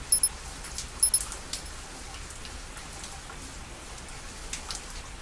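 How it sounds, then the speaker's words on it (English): Steady rain falls in the zombie survival video game Zafehouse Diaries, a constant soft hiss with a few brief louder patters near the start, heard alone without talk. "And that's the sound of rain."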